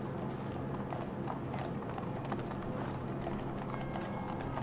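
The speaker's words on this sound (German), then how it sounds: "Pferdekutschen rollen über den Platz" Horse-drawn carriages cross a town square, hooves clip-clopping in a quick, busy, continuous patter with a low rolling undertone, moderately close and without any voices.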